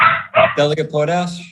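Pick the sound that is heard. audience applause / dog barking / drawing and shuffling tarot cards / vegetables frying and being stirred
dog barking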